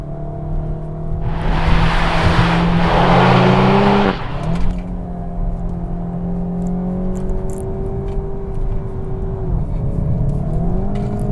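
A 2018 Seat Leon Cupra engine drones steadily up close on an open road, with a burst of broadband roar early on, then a smooth note that rises and falls as the car accelerates.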